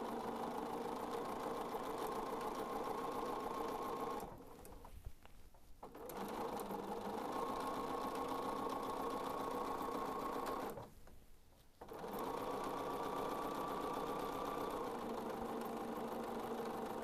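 A sewing machine stitches fabric for a doll panel in long steady runs of rapid mechanical whirring, stopping twice briefly for a second or so before resuming.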